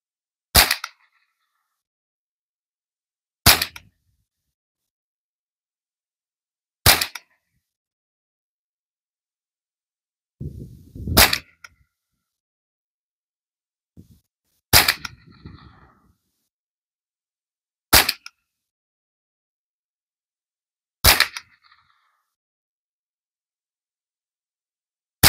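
Savage 64 semi-automatic .22LR rifle firing seven sharp, evenly spaced shots about three seconds apart, each a loud crack with a short tail, with faint handling noise between some shots.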